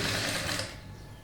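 An electric sewing machine stitches elastic onto netted cloth in a short, close, rapid whirring run that stops abruptly partway through.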